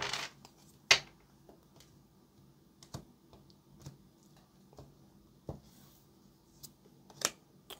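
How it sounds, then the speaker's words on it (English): Quiet, sporadic papery taps and flicks of tarot cards being shuffled, soft and close with irregular gaps between them. "Actually, one more shuffle."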